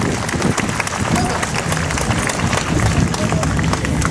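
Large rally crowd at a constitution-day peace assembly applauding steadily, a dense continuous wash of clapping filling the whole stretch with background murmur.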